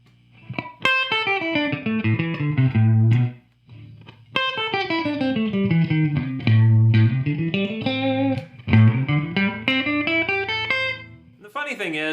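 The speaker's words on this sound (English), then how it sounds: "this 5-way selector gives me all the normal tones of a Strat" Clean Stratocaster-style electric guitar chords ring out loud and close, strummed in bursts with short gaps between phrases, notes sustaining and decaying.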